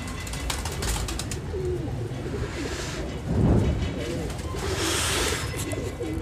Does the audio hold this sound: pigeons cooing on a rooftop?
yes